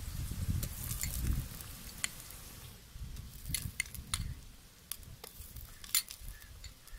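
Ginger garlic paste sautéing in a clay pot for prawn biryani, with a steady sizzle broken by repeated sharp scraping and clinking strokes of a spoon stirring against the pot.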